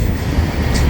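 Westbound freight train rolling past at Rochelle, Illinois, a loud, close, continuous rumble of wheels and cars with no pauses.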